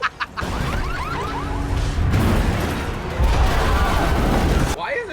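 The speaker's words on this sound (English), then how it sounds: "Why is there so much explosions?" Booms and crackling blasts ring out in the video game A Quiet Place: Day One. The bursts are loud and dense and keep rolling for several seconds, with game voices and bird-like cries mixed in.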